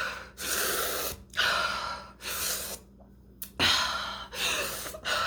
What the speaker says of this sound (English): this breathing she's doing, it just is pissing me off